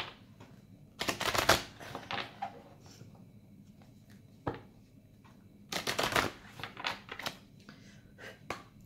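Oracle cards shuffled for a tarot reading, two bursts of quick riffling with scattered softer card taps between them, close and alone.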